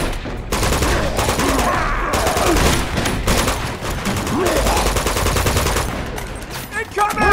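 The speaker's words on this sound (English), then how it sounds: "Machine gun." Sustained machine gun fire and overlapping gunshots in a chaotic firefight from Uncharted 2: Among Thieves, loud and dense across the whole stretch with brief lulls.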